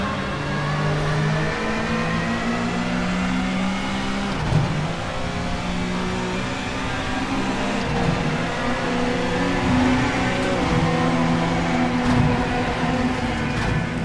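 A race car engine in Assetto Corsa with a VRC mod drones steadily at high revs, with shifting pitch and occasional gear changes, loud and sustained throughout.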